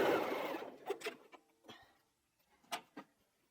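A 9480 QC Professional sewing machine runs fast while stitching nine-patch quilt block seams, a brief burst at the start that trails off into faint scattered clicks and handling noises, with no voice.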